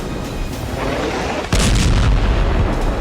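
Bomb dropped from a Shahed 136 drone exploding over an Israeli city: a sudden heavy boom halfway through, followed by a loud, sustained low rumble over constant background noise.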